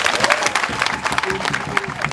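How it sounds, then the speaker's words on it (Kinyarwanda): A crowd at a CNDD-FDD election rally claps, with dense scattered applause and some crowd noise that stay fairly even for a couple of seconds. "Safi sana, amashyi cyane."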